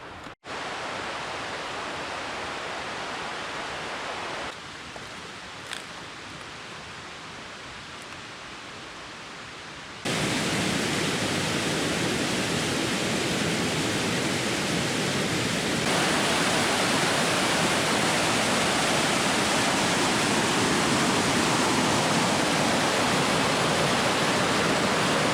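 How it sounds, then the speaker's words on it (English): Roaring waterfall noise, steady and broadband, quieter at first then swelling sharply into a loud, constant rush of falling water. "After seeing how crazy this waterfall is"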